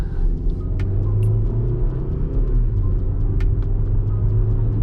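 A catless Dodge Challenger in sport mode makes a regular pull, its exhaust a loud, steady low drone and rumble heard from inside the car, with a few faint clicks over the top.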